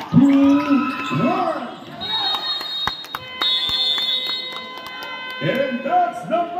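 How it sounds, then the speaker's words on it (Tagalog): At a junior division basketball championship game, a long electronic buzzer tone sounds to end the quarter. It rings out over court noise, bouncing balls and crowd chatter, and a commentator talks excitedly before it. "And that's the buzzer!"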